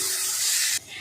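Onion frying in a pan with a pinch of salt and turmeric, lightly browned rather than crisp, gives a steady loud broadband sizzle that drops sharply near the end, with no voices.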